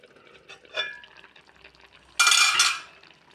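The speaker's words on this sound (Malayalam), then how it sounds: "ഞാൻ ഇടയ്ക്കൊന്ന് തവി കൊണ്ടൊന്ന് പതുക്കെ ഇളക്കി കൊടുത്തായിരുന്നു" A ladle scrapes and stirs fish peera curry in a pot, a soft clink early on, then a louder, brief scraping swirl near the end, close by.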